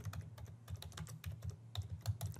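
Close, steady typing on a computer keyboard, a rapid run of clicking keystrokes alone without talk.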